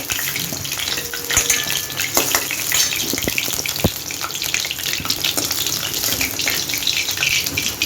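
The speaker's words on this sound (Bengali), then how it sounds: "আলুগুলো একটু লাল লাল করে ভেজে নেব।" Potato pieces fry in hot oil with a steady, bright sizzle that runs the whole time, broken by scattered sharp pops and crackles, close and fairly loud with no talking.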